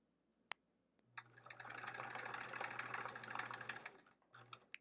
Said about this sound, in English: We'll sew this tiny 1-inch square to this 1-inch sashing piece.